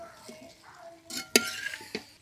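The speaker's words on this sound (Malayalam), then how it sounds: "ഇനി കുത്തി മറക്കുക" Chicken roast stirred in a pan, soft scraping and a few sharp spoon clinks against the metal over a faint sizzle, close and fairly quiet.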